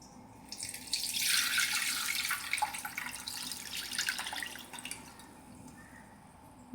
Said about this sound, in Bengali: ছেঁকে নিচ্ছি।